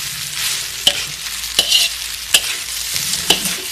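Nasi goreng, fried rice with sweet soy sauce and tomato sauce, sizzles steadily in a hot pan while a spatula scrapes and knocks against the metal four times at uneven intervals, close and clear.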